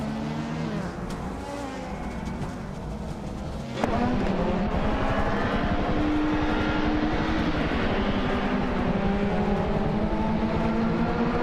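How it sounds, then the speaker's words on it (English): Racing game engine of a 1991 Honda Civic SiR2, a compact front-wheel-drive coupe, droning steadily throughout, growing louder and fuller partway through as revs climb, with other cars' engines blending in the mix. "Bot Celestial Inari is racing a 1991 Honda Civic SIR2"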